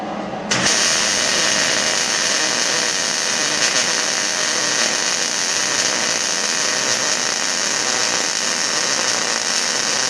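Continuous crackling hiss of a welding arc as a bead is pushed along a joint, loud and steady throughout after a brief start, with no talk.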